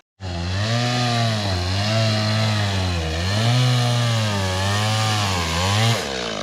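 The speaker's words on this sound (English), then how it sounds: "he's currently down there cutting up some firewood" A chainsaw cuts up firewood at a riverside campsite, its engine droning loud and close for about six seconds with wavering pitch as it bites into the wood, then cutting off abruptly.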